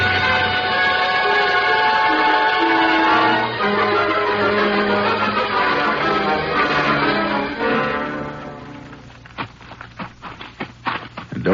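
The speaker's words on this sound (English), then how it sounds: "Now, there's the engine, Jace." A radio drama sound effect of a train engine laboring up a hill, made of sustained droning whistle or horn tones over a low rumble that give way to rhythmic chugging beats near the end.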